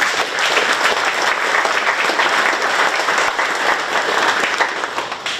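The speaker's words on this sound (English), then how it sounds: "Give them a round of applause." Loud, dense applause fills a building at the opening of a career center, with a crowd clapping steadily and close by for several seconds before it begins to thin at the end.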